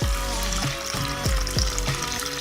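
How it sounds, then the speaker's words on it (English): Water pours from a kettle into an Instant Pot, a continuous close splashing trickle with small gurgling pulses, heard alone. "I have my kettle here, and I pour in enough water"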